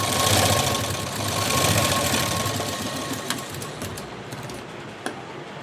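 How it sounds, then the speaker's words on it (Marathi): Sewing machine stitching a cross strip on a blouse front, a steady rapid mechanical whir running throughout with faint clicks near the end, no talking. "ती क्रॉसपट्टी इथून आता मी शिलाई देऊन घेणार आहे"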